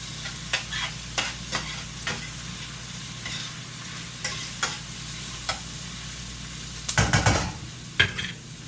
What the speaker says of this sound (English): Give us a stir.